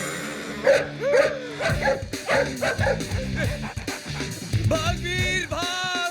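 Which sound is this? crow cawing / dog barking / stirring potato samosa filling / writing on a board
dog barking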